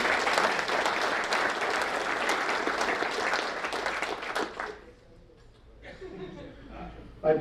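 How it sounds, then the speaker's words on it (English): Audience applause for the Sonoma County Business Alliance, dense and steady for about four and a half seconds before tapering off, with a few chuckles and murmured voices lingering afterward. "So a round of applause for the Sonoma County Business Alliance and what you're doing."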